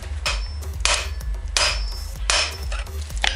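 Hammer strikes, apparently on metal, during a build of a Dalek replica: four loud, regularly spaced blows about once a second, each with a bright ringing top and a low thump.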